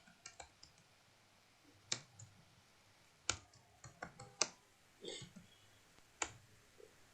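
A search is typed on a computer keyboard, heard as faint, sparse, irregular keystroke clicks spaced across a quiet room with no voices.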